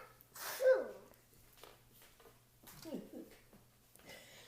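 A two-year-old toddler makes a fake sneeze, a short sharp burst near the start followed by softer breathy vocal sounds, with a quiet household hum underneath and a voice nearby.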